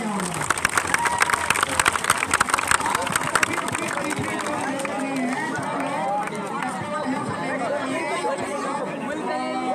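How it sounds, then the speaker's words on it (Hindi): An audience applauds at a school street play about corona, staged by Govt Model Sanskriti Senior Secondary School in Saroli, Punhana; loud, dense, steady clapping mixed with crowd chatter carries on for about ten seconds. "बहुत बड़ी मैम के लिए एक बार जोरदार तालियां होंगी।"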